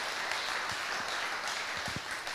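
Short burst of dense audience applause in a room, a continuous clapping wash with a few low thumps underneath.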